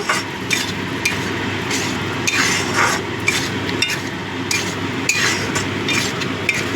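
Spiced masala for a hot Bengali curry of small deshi or batashi tengra catfish is stirred and sautéed in oil, with steady frying sizzle and repeated clinks and scrapes of a spoon against the pan throughout.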